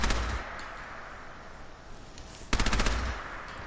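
A light machine gun in a video game fires a rapid burst of heavy, punchy shots that rattle out loudly near the end, following a stretch of quieter noisy game ambience.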